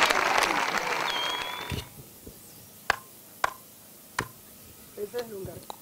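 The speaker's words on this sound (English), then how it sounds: "I can hear a person clapping hands." A person claps hands in a few sharp, separate claps after a burst of background noise, with talking in between, heard outdoors at a healing event in Namibia.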